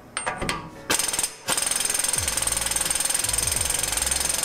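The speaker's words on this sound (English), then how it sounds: "Or actually, we got impact gun." Pneumatic impact gun on a car's wheel nut, a loud rapid hammering rattle running almost continuously after a couple of short trigger bursts, close and alone.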